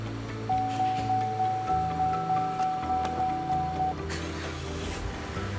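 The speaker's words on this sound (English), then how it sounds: "The vehicle starts up." 2010-2016 Cadillac SRX engine starting by remote start, a steady low idle with a faint rhythmic ticking and a thin sustained tone over it, fairly quiet and with no talk.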